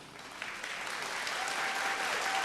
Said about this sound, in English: Ladies and gentlemen, another round of applause, please, for Mix Steve.